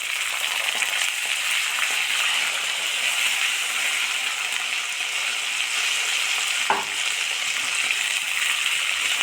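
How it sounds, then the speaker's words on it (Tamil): Green peas hit hot oil already crackling with browned chana dal and urad dal, giving a steady, loud, close sizzle throughout, with a brief clatter of stirring near the end. "இப்போ இந்த பட்டாணியை சேர்த்துடலாம்."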